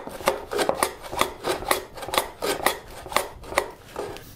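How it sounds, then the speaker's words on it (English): Hand plane taking quick shavings off a wooden shooting board to true it, about ten short rhythmic swishing strokes in steady succession, close and clear with no talking. "So then after a few quick shavings"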